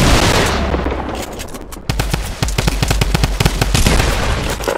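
Rapid automatic gunfire in Fortnite, a loud burst of closely spaced shots after a short lull of rumbling background, the shots fired in quick rhythmic bursts close up with no voices.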